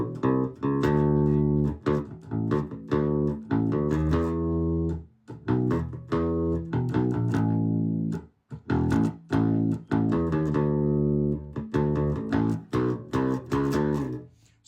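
A bass guitar plays an intro riff, with clear plucked notes in a repeating pattern, loud and close, broken by short pauses between phrases.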